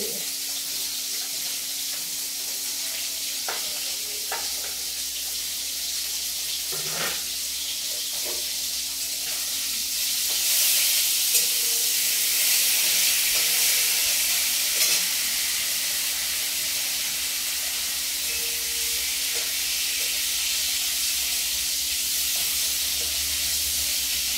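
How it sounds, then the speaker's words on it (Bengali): Lentil dumplings (bori) sizzle in hot oil, a steady, close frying hiss that grows louder midway, with occasional stirring clicks and no talk. "বড়িগুলো ভাজা হয়ে গেছে।"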